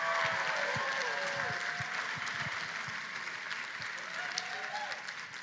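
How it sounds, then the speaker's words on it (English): Audience applause fills a gala celebration hall, a dense, steady wash of clapping that holds loud throughout and fades slightly toward the end, with crowd voices mixed underneath. "Give yourselves a round of applause."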